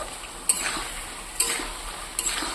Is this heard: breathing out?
no